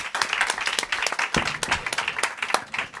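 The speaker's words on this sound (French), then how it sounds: "Merci Julien, on applaudit nos intervenants." An audience at a talk on mobility applauds the speakers, a brief burst of scattered, uneven hand claps from a modest crowd heard close and clear, with no voices over it.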